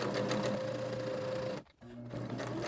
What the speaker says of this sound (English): we'll just stitch at the machine right across these top edges